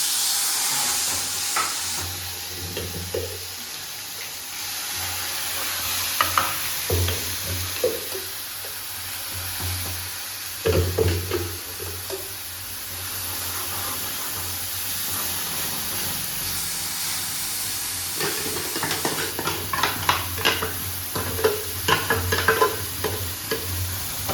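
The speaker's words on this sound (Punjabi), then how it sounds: "ਹੁਣ ਆਪਾਂ ਲਾਵਾਂਗੇ ਤੜਕਾ" Spices sizzle in hot oil for a tadka: a steady, close frying sizzle with hissing spray, occasional stirring clatter and bursts of crackle; no voices.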